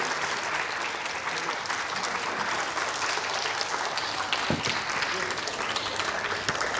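Enthusiastic applause from a conference audience in Lahore welcoming someone speaker, continuous heavy clapping that fills the hall at a steady level, with a few louder claps standing out near the end.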